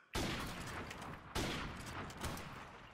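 Two loud, close gunshot blasts in a 1v1 shooter video game, each with a sharp onset and a long reverberant tail, the second roughly a second and a half after the first.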